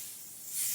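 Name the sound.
spraying hair spray on a wig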